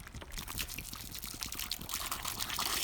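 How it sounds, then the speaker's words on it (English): Water poured fast from close range, a steady rushing stream that grows slightly louder toward the end, heard alone without voices. "see how consistent the stream of the water is when at a close distance, pouring it at a fast rate"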